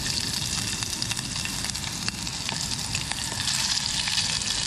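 Cabbage and rice sizzle and bubble in a pot on a bicycle-touring camp stove, a steady loud frying hiss with wet crackle and stirring, unbroken and close, without speech.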